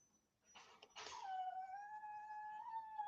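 Dog whining and crying indoors, a faint rustle followed by a long, rising-and-falling high-pitched whimper that holds for a couple of seconds, quiet and close with no talk.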